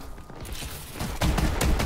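Rapid gunfire in Call of Duty Advanced Warfare multiplayer, Infected mode, a short burst of fairly quiet, distant shots that grows louder toward the end.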